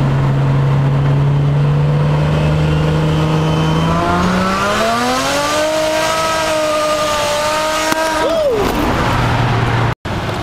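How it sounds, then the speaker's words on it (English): 2002 turbo Nissan Maxima brake boosting at 40 mph: a steady engine drone climbs as revs rise against the brakes, holds a strained high note, then drops off suddenly, loud and close with no talking. "Brake boost in 40 mile an hour brake boost."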